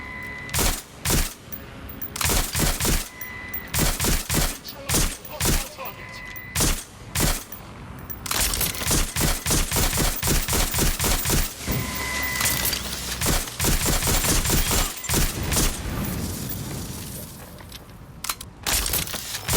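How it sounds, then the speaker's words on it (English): Heavy gunfire in the video game Watch Dogs Legion during a police headquarters takeover, with loud sharp shots in rapid bursts and scattered single cracks over nearly twenty seconds, and voices calling out between them. "I'm taking fire!"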